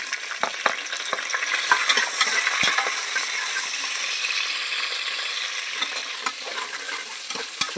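Onions frying in a pan for vegetable biryani, a continuous bright sizzle with frequent light scraping and stirring clicks of a spatula, close and steady, no voices.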